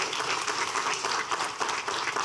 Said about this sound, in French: Par cette acclamation